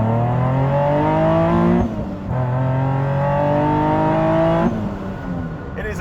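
A Nissan 370Z fitted with a TopGuns ACE supercharger kit accelerates hard under throttle, its engine note climbing steadily through two gear changes, loud and close with a rising whine.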